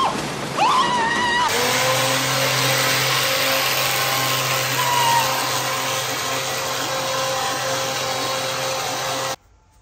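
A Rolls-Royce V12 engine, unrun for 30 years, is cranked over, producing a steady droning whir that holds for about eight seconds before stopping abruptly.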